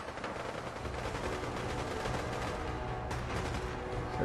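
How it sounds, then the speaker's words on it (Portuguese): Gunfire in Fallout 4 on Xbox One, a steady stream of quiet shots and bursts heard at a distance over the game's background sound, with no talking. "Tô ouvindo tiro, tiro, tiro."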